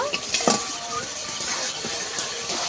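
Spices for a fish curry with pointed gourd are stirred and fried in a pan with a little water, giving soft scraping, light clinks and a faint sizzle, steady and close.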